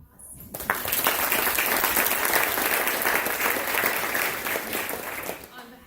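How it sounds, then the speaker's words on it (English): Sustained applause from a gala audience honouring a group of named guests, a dense, even wash of clapping that swells in quickly, holds steady and tapers near the end. "we'll give them a round of applause"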